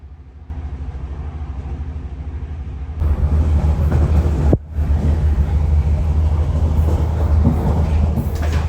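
A passenger train runs on the Cork to Cobh line in Ireland, heard from inside as a steady rumbling roll that grows louder partway through, with a brief dip and continuous track noise.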